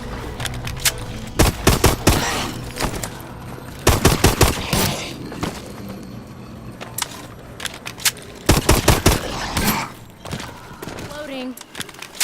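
Rapid bursts of automatic gunfire from the Exo Zombies mode of a Call of Duty-style shooter, loud volleys in clusters with gaps between, over a low game ambience and faint chimes.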